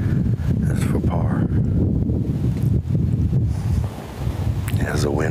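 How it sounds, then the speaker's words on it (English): Steady wind blows across an outdoor disc golf course at a tournament, roaring and buffeting the microphone almost continuously, with a commentator talking over it. "As the wind picks up, and he can feel it as he comes away from that wood line"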